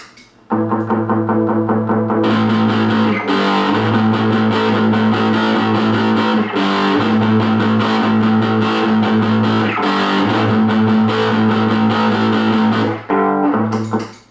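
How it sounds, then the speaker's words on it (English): Electric guitar run through the Mega Distortion in a Boss ML-2 pedal, loud saturated power chords held and chugged in repeating phrases with brief gaps, heavy fuzzy tone, played alone without speech. "now I'm gonna engage Mega Distortion with my settings"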